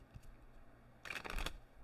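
Tarot cards are shuffled in a brief, soft riffling burst after near silence, quiet and close.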